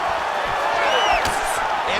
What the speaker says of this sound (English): the athletes back to their feet, and no surprise, the crowd responds in kind